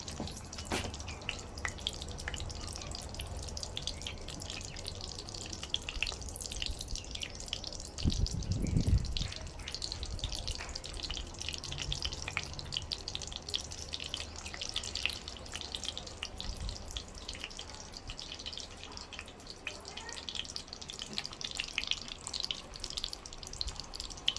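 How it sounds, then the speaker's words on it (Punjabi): Semolina gulab jamun fry in desi ghee with a steady, soft bubbling sizzle that runs throughout, with a brief louder low clatter partway through and no talking. "ਹੁਣ ਆਪਾਂ ਗੁਲਾਬ ਜਾਮਨ ਨੂੰ ਚੰਗੀ ਤਰ੍ਹਾਂ ਤਲ ਲਾਂਗੇ"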